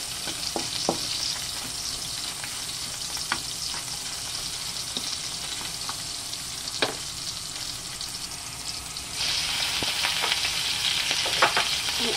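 Onion frying in a pan for a chayote and cabbage dish with chicken gizzard, giving a steady close sizzle with scattered crackles and pops, which rises louder near the end, with no talking.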